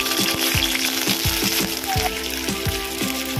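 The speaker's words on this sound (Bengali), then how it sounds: "হালকা করে ভেজে নেব।" Chopped onion pieces frying in a spoonful of ghee in a kadai, with a steady loud sizzle and repeated scraping stirs of a spatula against the pan, close up and without talk.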